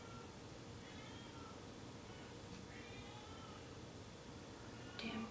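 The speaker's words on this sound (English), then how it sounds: "Damn cats." Cats meow faintly in the background of a quiet indoor room, a few drawn-out calls rising over a steady low hum.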